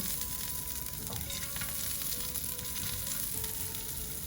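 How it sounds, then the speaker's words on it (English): Vegetables for a grilled pesto mozzarella sandwich fry quickly in hot oil in a pan, giving a steady, even sizzle and crackle that holds throughout with no talking. "the oil is nice and hot, and I'm just going to fry these quickly until very slightly golden"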